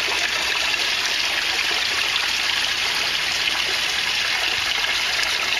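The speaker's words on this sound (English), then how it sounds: "There, now see it's pouring in." Water pours steadily into an aquaponics tank, a loud, even rush and gurgle close by that holds constant from start to finish with no voices.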